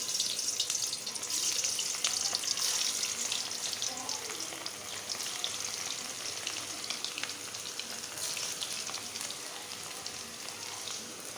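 Hara kofta frying in hot oil give a dense, continuous crackling sizzle like rain on a surface, steady and close throughout with no talking.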